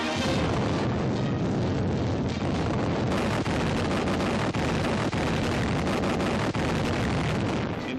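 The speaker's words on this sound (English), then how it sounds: "hit by fleets of bombers and by the salvos of naval guns" Naval gun salvos and bomb explosions from a 1943 WW2 US Navy newsreel form a dense, continuous roar of blasts, with sharper detonations punching through every second or so, loud and unbroken throughout.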